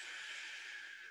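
A person imitates snoring with one soft, breathy rasping inhale that fades out at the end, quiet and alone.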